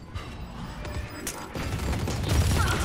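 Weapon fire from the tactical shooter Valorant rattles along in dense, continuous bursts that swell louder toward the end, with mechanical clatter mixed in and no clear gaps between shots.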